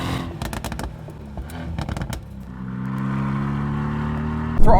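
A 2018 Mercedes-AMG GT R in race mode fires off a quick run of sharp exhaust crackles and pops, then settles into a rising engine drone before a final loud burst at the end.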